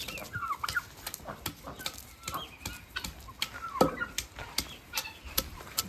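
Farmyard chickens cluck and call in short, irregular bursts at moderate distance on farmland, with a few sharper squawks and no voices.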